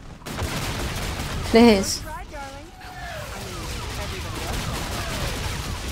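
Gunfire in a video game: a sharp burst of shots with whining, sweeping effects, followed by a lingering rumble of continued fighting, while a player speaks over it.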